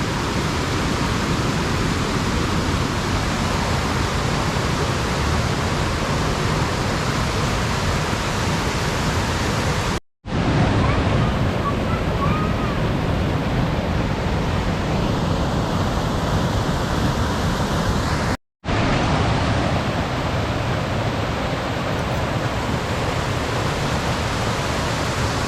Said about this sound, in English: You can hear me over the noise of the river.